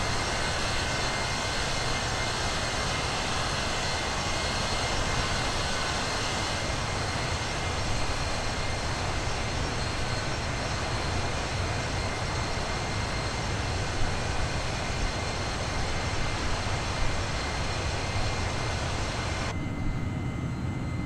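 A steady, loud, unbroken airliner engine roar from an Airbus A318-100 in a flight simulator, heard just after departure from Edinburgh. It holds constant throughout with a slight tonal shift near the end and no talking.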